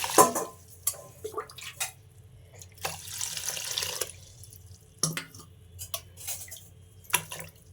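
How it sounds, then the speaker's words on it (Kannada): Water splashes into a pot of sprouted horse gram in short bursts, with one longer steady pour in the middle and scattered clinks and drips around it, close up. "ಇದಕ್ಕೆ ನಾನು ಒಂದೆರಡು ಗ್ಲಾಸಷ್ಟು ನೀರನ್ನು ಸಹ ಸೇರಿಸ್ತಾ ಇದ್ದೀನಿ"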